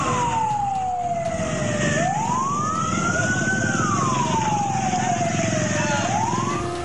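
A fire engine siren wails loudly in slow rising and falling sweeps as the truck arrives at a burning street-vendor stall in Pulo Gadung, East Jakarta. Heavy engine and traffic rumble continue steadily underneath.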